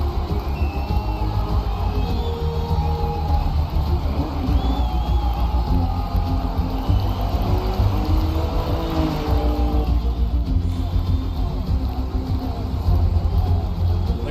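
A racing video game crowd roars steadily alongside revving car engines, the cheering and engine drone blending into a continuous loud wash with no clear breaks.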